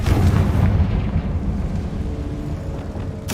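A Confringo fire spell explodes in a video game with a loud, deep, rumbling blast that fills the whole moment and rolls on without a break.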